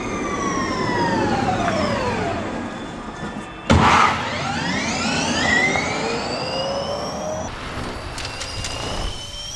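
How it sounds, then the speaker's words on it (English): Electric motors whine in a Dodge electric muscle car concept, a loud rising and falling synthetic tone with sweeping pitch, plus a brief sharp burst partway through and a steady hum underneath. "You can also hear the electric motors whining as well."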